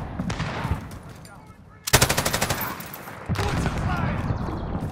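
Video game gunfire with a sharp burst of rapid, evenly spaced machine-gun shots in the middle, then continued shooting and battle noise, with scattered voices heard around it.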